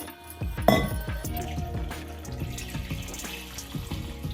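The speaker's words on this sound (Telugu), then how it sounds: "ఇలా కడిగేసుకుని నీళ్ళు ఒకసారి వంపేసుకున్నాము" Kidney beans are rinsed in a vessel and the water is drained off, with close, continuous sloshing and trickling water and a few light clinks against the pot.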